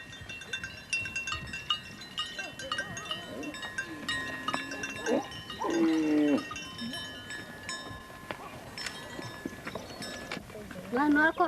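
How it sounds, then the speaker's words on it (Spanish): Mursi cattle of the Goroburay herd set out to pasture in Ethiopia's Omo valley, with a few drawn-out lowing calls rising over a steady outdoor hum and scattered clatter, plus a louder burst of calls near the end. "A las 8 de la mañana sale el rebaño de Goroburay en dirección a los pastos"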